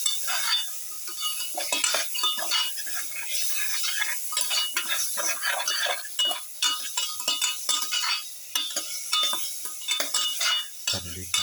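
Mutton pieces stirred in a hot pan for a pepper garlic lamb dish: steady scraping and clinking of a utensil against the pan over a continuous sizzle, close and fairly loud throughout.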